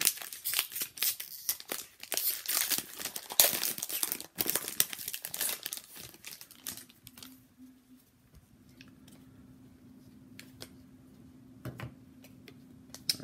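Foil wrapper of an Upper Deck Toronto Maple Leafs Centennial Season hockey card pack crinkling and tearing open close up, busy rustling for several seconds, then quieter shuffling with a faint steady hum.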